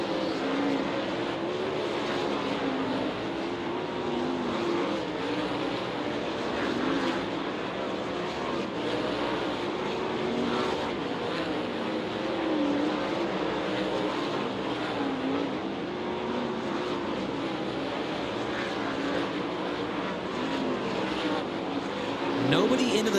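Race cars on a hot lap session at Lake Ozark Speedway, a dirt oval hosting Kubota High Limit Racing sprint cars, producing a continuous loud engine roar that rises and falls steadily throughout, with no clear talk.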